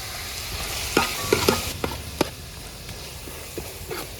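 Chicken curry base frying in a pan while a spoon stirs it, a steady close sizzle broken by repeated scraping clinks and taps of the utensil against the pan, with no talking.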